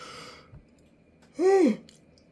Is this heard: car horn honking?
no